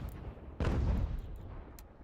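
A single muffled mortar blast in Ultimate General: American Revolution, a low distant boom with a short rumbling tail, faint and alone.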